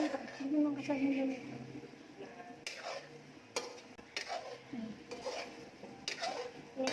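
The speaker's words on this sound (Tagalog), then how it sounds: "Mix lang habang nagluluto." Chicken adobo being stirred in a pan while cooking, with repeated clinks and scrapes of a utensil against cookware, a faint sizzle underneath, and people talking throughout.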